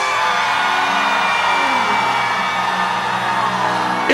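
A church congregation hollers and screams together in a loud, sustained mass roar, with layered yelling voices blending into a dense continuous wall of sound that stays strong throughout.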